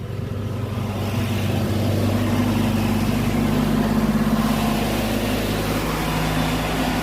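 A tractor engine rumbles continuously on a Jerusalem street as it passes close by, a steady mid-to-low drone filling the whole stretch with no talking.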